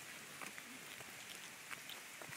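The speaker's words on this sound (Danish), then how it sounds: "Nu er der mere regnvejr her." Steady rain falls outdoors in cold weather, a constant soft hiss of drops on surfaces with a few slightly louder patters, faint and even throughout.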